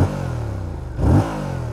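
A 2022 Yamaha R7 with its parallel-twin CP2 engine revs once, a deep thumpy drone swelling briefly then settling back to idle, close and alone.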